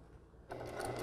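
A sewing machine starts stitching a straight seam on a shirt, half a second of quiet before a sudden, steady whirring hum that builds slightly, close and alone.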